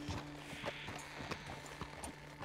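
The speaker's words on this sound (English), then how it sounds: "Just admiring your horse there." Horse hooves clip-clop at a steady walking rhythm in the Red Dead Redemption 2 video game, faint and close, with no talk over them.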